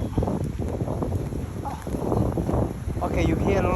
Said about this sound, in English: you hear a lot of noise of air because the waves from Lake Tanganyika